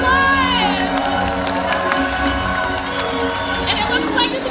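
A lively crowd cheers and whoops steadily throughout at a SeaWorld orca show stadium, with a dense wash of voices and some clapping mixed in.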